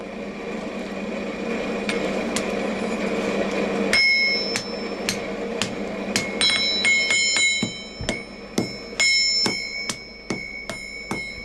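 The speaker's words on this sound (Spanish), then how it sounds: "el herrero golpea rítmicamente el hierro, ayudado por un martillo y un mallo, hasta darle la forma apropiada." A blacksmith beats hot iron on an anvil, with an assistant swinging a sledge in time with his hammer. Bright metallic clangs ring out loud and close, first sparse, then a brisk, steady rhythm of alternating strikes.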